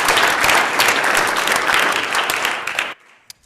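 Loud, dense applause fills a state Senate chamber during a floor session, sustained for about three seconds before cutting off sharply, followed by near silence and a single faint knock.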